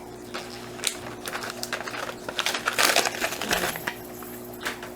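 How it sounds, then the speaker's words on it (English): Plant hanger with chains being torn out of its package, a jumble of crinkling, rattling and clinking metal-chain sounds close by, busiest in the middle, with no talk. "Tear it out of the package."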